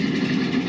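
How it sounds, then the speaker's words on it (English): A train passing at a Disney theme park, a steady low rumble of engine and rolling cars held close and fairly loud with no voices over it. "Here comes the train."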